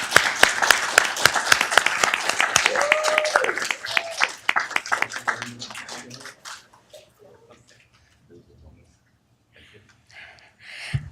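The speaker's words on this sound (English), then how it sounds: "Give him a round of applause." Applause for an Army veteran at a Downey city council meeting, dense clapping that thins and fades out, followed by quiet room noise and faint voices.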